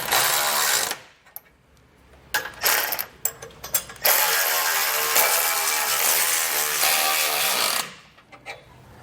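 A ratchet drives hitch mounting bolts tight on a hidden front-mount trailer hitch install, rattling loudly in long continuous runs broken by brief pauses and a few short strokes, close up with no talking.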